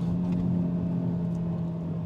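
A Cupra Formentor VZ5's five-cylinder engine drones steadily from inside the cabin, a low constant rumble with a strong steady hum and no distinct rise or fall in pitch.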